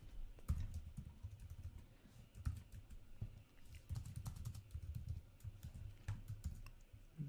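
Fingers tap on a computer keyboard in quick, uneven bursts of soft clicks, heard close and quiet against a faint background hum.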